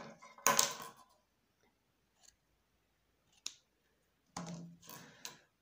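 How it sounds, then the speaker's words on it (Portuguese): Scissors snip through folded organza ribbon measured for a fabric flower, a few crisp cuts with quiet gaps between them, close and clear. "vou dobrar e vou cortar"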